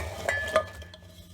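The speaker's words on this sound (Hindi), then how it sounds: "अब हम एक पतीली लेंगे और इसमें आम को डाल देते हैं।" Mango pieces mixed with turmeric and salt drop into a metal cooking pot for pickle, two sharp clinking knocks close by, followed by a faint fading rattle.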